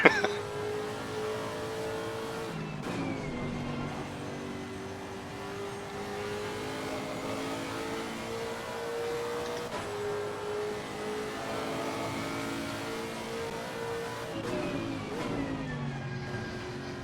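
A GT race car in Assetto Corsa Competizione at Spa, its engine droning loudly and continuously, pitch climbing through gears with brief shifts and a near-flat lift through a fast corner.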